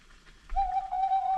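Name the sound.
owl hoot sound effect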